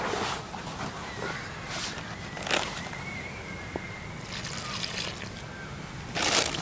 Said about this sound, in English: Slowly add the water.